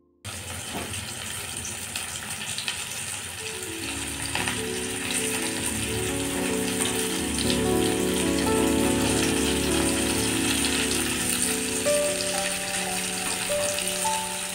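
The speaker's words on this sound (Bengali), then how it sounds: "একটা কড়াইতে কিছুটা তেল গরম করে নিয়েছি। এবার আমি এই ফুলকপিগুলোকে এক এক করে" Cauliflower pakoda frying in hot oil in a wok, giving a loud, steady sizzle and bubbling that carries on without a break for the whole stretch, with no talking.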